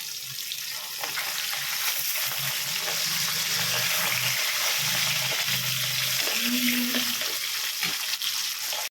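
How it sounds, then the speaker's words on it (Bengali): Fish coated in salt and turmeric fries in hot oil, a steady close sizzle and crackle running through the whole stretch with a brief tonal hum midway. "যে নুন হলুদ মাখিয়ে মাছ ভাজছি এখন"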